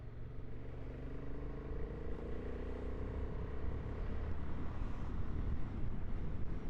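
A 2025 Honda Hornet 750 motorcycle with a quick shifter runs steadily at close range, its engine a continuous low rumble with faint rising harmonic tones, mixed with wind buffeting across the microphone throughout.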